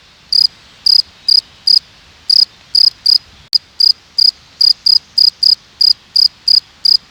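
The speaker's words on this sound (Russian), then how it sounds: "Сверчок победил другого, поет довольный." A victorious cricket sings near a forest house, loud and close, in evenly spaced short chirps, about fifteen of them, with a brief click midway and quiet background between bursts.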